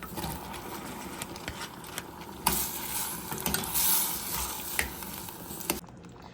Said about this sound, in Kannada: ಇದನ್ನು ಮಿಕ್ಸ್ ಮಾಡ್ಕೊಂಡು ಇವಾಗ ಬೇಯಿಸ್ಕೊಂಡಿರೋ ಪಂಪ್ಕಿನ್ ಹಾಕ್ಕೊಳ್ಳೋಣ